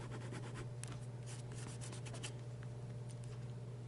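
A Fountain Pen Revolution fountain pen nib scratches softly across paper in quick, light strokes, close up and steady, over a constant low hum.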